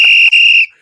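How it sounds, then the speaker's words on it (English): A single loud, piercing whistle blast introducing a legendary New York City high school basketball coach, held briefly, cut by a quick break, then resumed before stopping abruptly. "we gonna blow a big whistle for my boy tonight"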